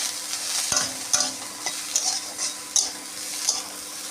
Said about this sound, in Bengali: সয়াবিন ভাজা হয়ে গেছে, আমি তুলে নেব।